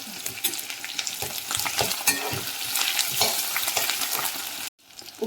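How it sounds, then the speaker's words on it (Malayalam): Chilli, crushed spices and curry leaves sizzle loudly in hot oil while a spoon stirs and scrapes the pan in quick strokes, close up, before a sudden cut near the end. "മുളകും ചതച്ചതും കൂടെ കറുവേപ്പലയും ചേർത്ത് നന്നായി ഇളക്കി മൊരിച്ചെടുക്കാം"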